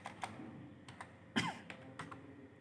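Keys on a computer keyboard are tapped in a quiet, uneven sequence of close clicks, with one louder keystroke midway, in a Linux command-line setting.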